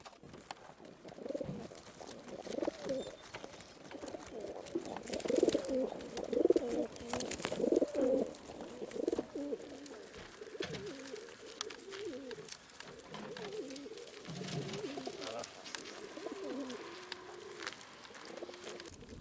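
Racing pigeons coo repeatedly in soft, throaty phrases, several birds overlapping at moderate distance, with faint background rustle and no talking.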